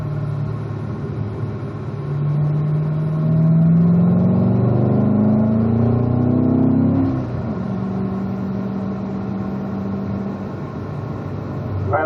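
A manual race car accelerates through the gears on a track before braking for a turn, its engine note rising steadily in a loud, close drone, then dropping sharply and settling into a lower hum.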